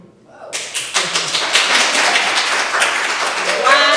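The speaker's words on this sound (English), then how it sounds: "Can I get a replay of that applause?" Dense applause bursts in after a brief quiet start and carries on steady and close, with many overlapping claps forming a continuous wash.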